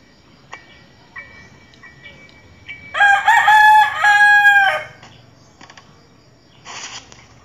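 A rooster in the game Granny gives one loud crow near the middle, with a softer cluck before it and a brief cry after it, over faint insect-like chirping and quiet background ticks.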